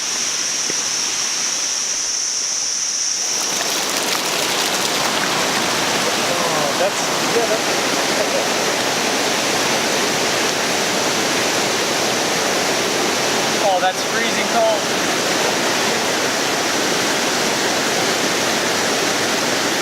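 Kuang Si waterfall pours over limestone into turquoise pools near Luang Prabang, a loud steady roar of falling water that begins after a quieter opening and continues throughout, with a brief spoken remark partway through.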